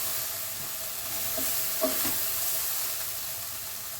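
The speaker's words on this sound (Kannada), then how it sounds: "ಇದನ್ನು ಸಹ 1-2 ನಿಮಿಷ ಟೊಮೊಟೊ ಮೆತ್ತಗಾಗೋವರೆಗೂ ಹುರ್ಕೊಳ್ಳಿ." Tomatoes fry in a pan until soft, a soft continuous sizzle with a few brief stirring scrapes, close and quiet, with no talking.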